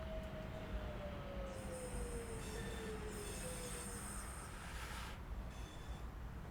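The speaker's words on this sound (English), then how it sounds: "It's definitely making some strange noises, this train." Train wheels squealing in Train Sim World 3 on the Birmingham Cross City line, a long drawn-out high squeal that slowly falls in pitch over a steady loud rumble of the moving train, with no talking.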